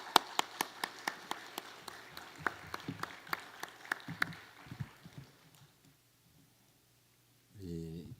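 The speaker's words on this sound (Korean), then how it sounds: "뜨거운 박수로 모시겠습니다." A congregation at a Korean church's New Year special dawn revival service claps in a sparse, steady rhythm of distinct single claps. The clapping thins out and fades to near silence, then a voice begins speaking at the very end.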